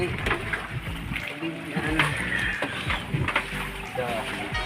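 A small outrigger boat (bangka) moves across the water near Bais City, with continuous splashing and sloshing close by under steady voices talking.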